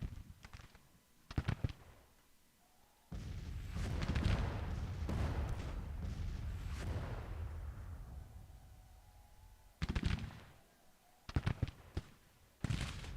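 Troops opening fire in the Civil War strategy game Grand Tactician: scattered sharp musket-like cracks, then a long rolling rumble of massed fire, followed by a few more distinct bursts near the end.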